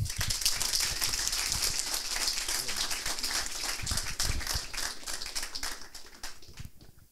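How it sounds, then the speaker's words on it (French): Audience clapping for student presenters at a coding bootcamp demo day, a brisk, fairly close burst of many individual claps that gradually thins out toward the end. "s'il n'y a pas de questions, on peut les applaudir."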